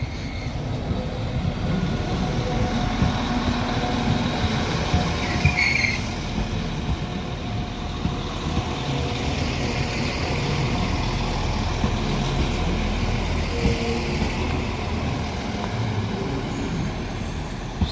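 A Northern train, unit 119, runs at Oxenholme on the West Coast Main Line on a delayed service to Windermere. It gives a steady, loud diesel rumble with engine drone and a faint brake hiss, and no one speaks.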